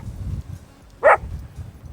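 A dog lets out a single short bark at mid distance over a low background rumble, the rest of the moment quiet.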